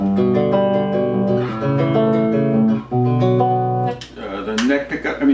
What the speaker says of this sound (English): The middle pickup sounds like this. A little thinner.